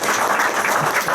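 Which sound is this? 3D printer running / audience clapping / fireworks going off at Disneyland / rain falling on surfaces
audience clapping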